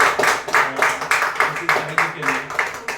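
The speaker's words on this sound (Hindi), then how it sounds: "तो एक जोरदार ताली" A round of applause from an audience at a gathering, with several bursts of clapping in an uneven rhythm and fairly close, carrying on steadily through the moment.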